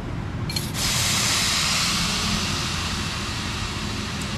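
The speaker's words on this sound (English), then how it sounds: "You can hear the sizzle." Char siu chicken rice sizzles loudly in a hot clay pot, a steady, close, hissing crackle that surges in after a brief quieter start and holds constant.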